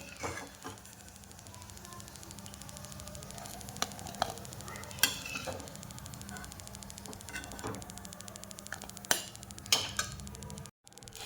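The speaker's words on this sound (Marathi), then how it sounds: "हे पहा अशा प्रकारे सर्व मी तळून घेत आहे" Sweet potato gulab jamun fry in oil with a steady close sizzle and crackle, punctuated by light clicks and taps of a utensil against the pan; no talk.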